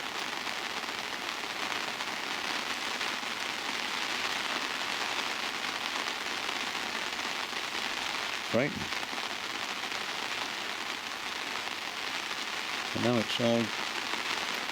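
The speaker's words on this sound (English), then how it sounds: "I've never seen rain like it" Heavy rain pours down in a constant dense hiss beside a river in Fawdington and Asenby, with a person briefly speaking over it near the end.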